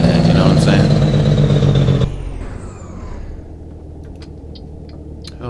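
A Kenworth K100 truck engine in American Truck Simulator: a loud drone with a harmonic whine for two seconds, then cutting to a quieter, steady rumble with faint high ticks.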